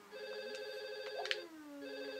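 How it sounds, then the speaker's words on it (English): Electronic telephone ringtone from The Sims video game, a steady tonal ring with higher chime accents, fairly clear and alone over a quiet game background, lasting about two seconds. "Oh, answer the phone. Answer the phone."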